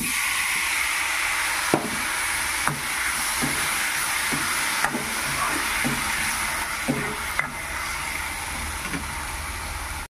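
Tomatoes tipped into taro frying in a pan give a steady, close hiss of oil broken by several sharp clanks and scrapes of a spoon against the pan, with no voices.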